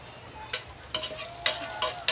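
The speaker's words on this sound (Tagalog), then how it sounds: "So pag naglagay natin ng bawang, ilalagay na rin natin yung luya para sabay sila mag-saute" Garlic sautéing in a hot pan with galunggong nearby, a steady close sizzle broken by several sharp spatters and stirring scrapes over about two seconds, with no talking.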